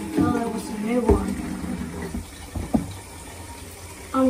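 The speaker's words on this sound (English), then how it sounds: "I'll just pour all the water out until there was a new one." Old water splashes and gurgles as it is poured out of a baby snapping turtle's tank in short uneven bursts, close by and fairly loud.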